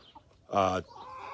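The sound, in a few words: chickens clucking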